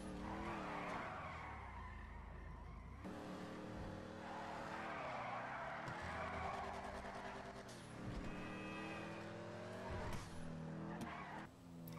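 Sports car drifting in GTA 5, a continuous engine whine with shifting revs and sustained tire squeal as the car slides through corners, loud and steady throughout.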